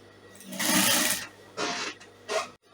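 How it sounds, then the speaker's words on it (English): A sewing machine stitches fabric for a gown with an attached basque, running in three close bursts of whirring: one long run, then two shorter ones separated by pauses. "So I'll just place it here and then I'll sew it down to the end."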